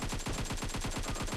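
Rapid automatic gunfire in the PUBG Mobile video game, a fast regular burst of about a dozen sharp shots in quick rhythm, fairly quiet and with no talk over it.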